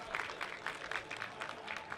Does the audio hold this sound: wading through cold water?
no